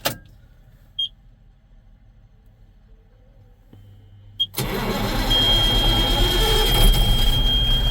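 Cold start of an 855 Cummins diesel of about 400 horsepower: near silence with a couple of clicks, then the engine fires abruptly and settles into a loud, close, rumbling run that continues to the end, no talk.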